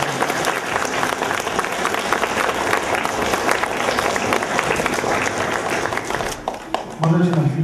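Sustained, dense applause from a crowd at a chess tournament prize ceremony, steady and loud for most of the stretch, thinning briefly near the end before resuming, with a voice faintly audible underneath.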